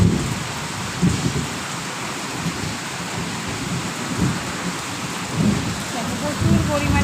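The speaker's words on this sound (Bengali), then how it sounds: "প্রচুর পরিমাণে বৃষ্টি হচ্ছে।" A heavy rain pours down steadily and loudly, a dense hiss of drops hitting surfaces with low rumbling swells beneath it.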